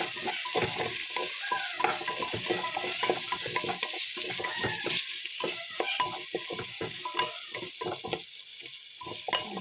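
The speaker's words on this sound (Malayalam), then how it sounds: "നന്നായിട്ട് ഇളക്കി കൊടുക്കണം നന്നായിട്ട് ഇളക്കിയിട്ട് ഇത് നന്നായിട്ട് ഇളക്കി വരണ്ടേ" Curry sizzles and fries in a pan while a spoon stirs it, with repeated scraping strokes over a steady hiss, close and moderately loud.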